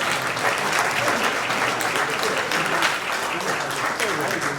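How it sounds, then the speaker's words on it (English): Guests at an awards banquet applaud steadily, a thick, even wash of many hands clapping at moderate volume from start to finish. "Clap for yourself, y'all"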